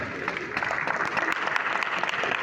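A crowd claps for a speaker in a dense, sustained round of applause, loud and close, continuing evenly throughout.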